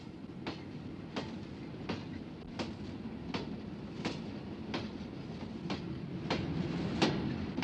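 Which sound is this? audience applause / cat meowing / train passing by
train passing by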